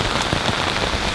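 Heavy rain pours onto a street in Japan, a dense, even hiss of drops striking the ground, close and unbroken, with no voices.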